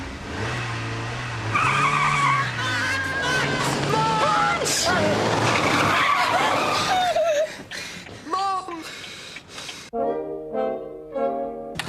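A car goes out of control and skids, its tires squealing in several rising and falling bursts amid engine noise, followed by music.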